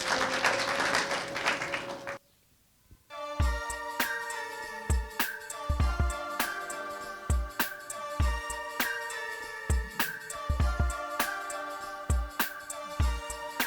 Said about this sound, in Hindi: जोरदार तालियां चार्ल्स सर के लिए